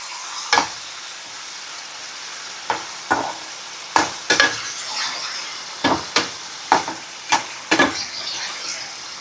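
Dried fish (karuvadu) frying on medium heat in a pan for thokku, with a spatula scraping and stirring in scattered sharp strokes over a steady soft sizzle.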